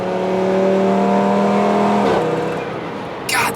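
An Audi RS3 with a blown (forced-induction) engine accelerates hard, its loud rising engine note climbing steadily before a sharp gear shift breaks the tone and the pull resumes, heard from inside the car.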